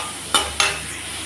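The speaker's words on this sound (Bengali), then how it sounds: "এখন এই পেঁপেটাকে ভালোভাবে ভাজা করে নিব।" Raw papaya frying in a pan for a traditional Assamese khar dish, a steady soft sizzle broken by two quick scraping stirs close by, with no talking.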